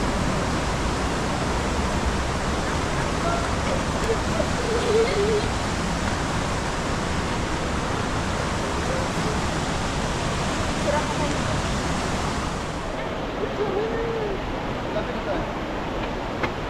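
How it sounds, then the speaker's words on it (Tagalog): Waterfall at Johnston Canyon in Banff, Alberta, roaring as a steady, loud broadband rush throughout, with faint voices barely emerging from the noise. "Ito na yung falls."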